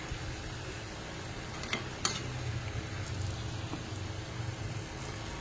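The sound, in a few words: paneer masala with peas being sautéed in a pan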